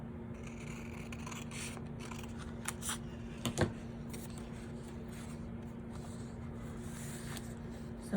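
Scissors snip through paper in a quiet crafting setting, a few brief crisp cuts clustered near the middle, soft and close against low background hum.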